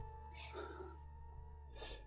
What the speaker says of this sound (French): Vous entendez mon petit chat qui se plaint actuellement.